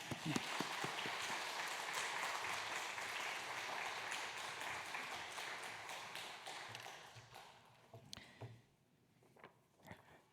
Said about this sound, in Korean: 우리 나오실 때 크게 박수로 환영하시겠습니다